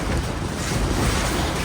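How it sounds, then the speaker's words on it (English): Strong wind buffeting a hunting blind during a Virginia spring turkey bowhunt, a loud, continuous roaring rumble dominating the microphone with no pauses. "Up here is extremely windy."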